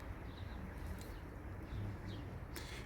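A pigeon kept as a flying play bird coos softly, with a few low, faint repeated calls over a quiet background hiss and no speech.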